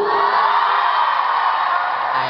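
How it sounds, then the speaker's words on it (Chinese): Concert crowd cheering and whooping loudly at a show in Taichung, a sustained roar of voices with no single speaker, steady throughout. "来，当我们一起走过的，请欢呼。"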